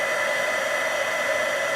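A heat tool blowing hot air to melt embossing powder for card crafting, a steady, loud, continuous whirring hiss held without change.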